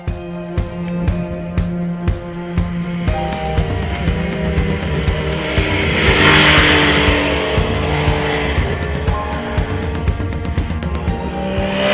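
An MV Agusta Brutale motorcycle is ridden on the road. Its engine drones steadily with repeated surges of revving and gear changes, loud and close throughout, with a rising wash of wind noise in the middle.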